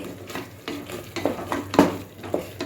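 Mushrooms and ground masala fry in a pan while a spoon stirs and scrapes them, giving close rhythmic scraping knocks about every half second over a faint sizzle, with no talking.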